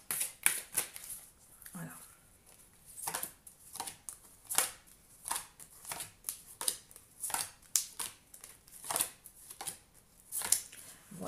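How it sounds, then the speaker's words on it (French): A deck of cards is shuffled by hand in repeated quick riffles and taps, close and crisp, with brief pauses between bursts and a short spoken word near the end. "vous avancez la vidéo jusqu'à ce que j'ai battu les cartes"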